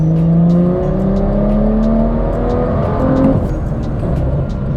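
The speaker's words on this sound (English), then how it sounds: "So that's just a little third gear pull" A tuned BMW with an N55 engine accelerating hard in third gear, the engine note rising steadily and loudly from inside the car, with a brief dip near a shift point and continuous road roar underneath.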